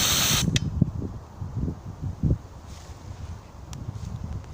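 An Antizver aerosol defence spray made by ZAO Tekhkrim blasts in a hissing burst at the start, then fades into gusty wind buffeting the microphone with rustling and scattered thumps.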